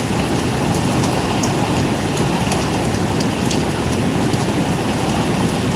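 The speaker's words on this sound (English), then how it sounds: "Oh, that was the bus in Houston" A city bus passing on a street in Houston, a loud continuous rumbling roar of engine and road noise up close throughout, with no talk over it.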